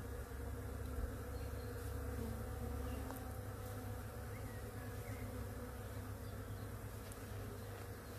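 Honeybees, lightly smoked, buzz on hive frames in a dense, steady drone that is close and moderately loud, with no break for the whole stretch.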